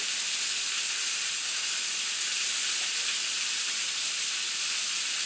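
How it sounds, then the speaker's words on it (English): Butter melting and simmering in a pan around fish gives a steady, even hiss that runs unbroken the whole time at moderate loudness. "we're going to throw that right in the pan there and let that melt and simmer into that fish"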